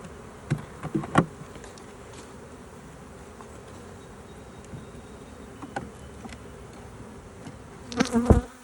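Honey bees hum and buzz around an open spring hive, a steady close drone with scattered louder passes of individual bees and a few small clicks and knocks from handling the frames.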